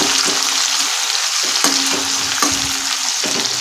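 Finely chopped onion fries with cumin in hot oil, a loud, steady sizzle with occasional stirring scrapes, close up and without talk.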